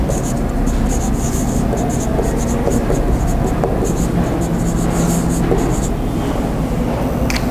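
Chalk or marker writing out a theorem statement on a board during a Class 8 mathematics lecture, a steady scratchy scrawl heard up close amid a busy, noisy room background.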